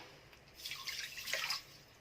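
Water pours briefly from a cup onto sugar in a pot for a light syrup, a soft splashing trickle lasting about a second, close and fairly quiet.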